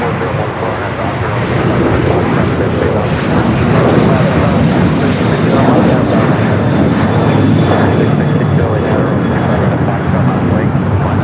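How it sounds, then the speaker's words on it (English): TAP Air Portugal Airbus A330neo on arrival to the north runway at Los Angeles airport, its jet engine roar swelling and holding loud and steady, with a voice talking over it. "Top Air Portugal, A330 Neo up next for arrival on the north."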